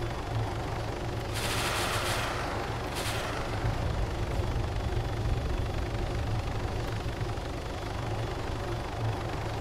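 Sustained automatic gunfire from the Arma 3 military shooter, with dense rattling bursts over a loud continuous rumble of engine and battle noise, two sharper bursts standing out early.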